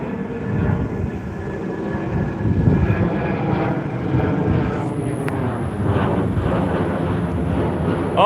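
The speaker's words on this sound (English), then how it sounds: "Oh, that's an Amazon plane." An Amazon cargo airplane passes overhead in Texas, a steady broad engine rumble sustained throughout at moderate loudness, with no talk over it.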